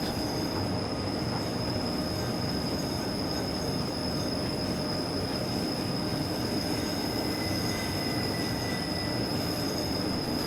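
A train on the Albula Line in Train Simulator 2017 rolls steadily with a loud, continuous rumble, wheels squealing as a high sustained whine throughout, no voices.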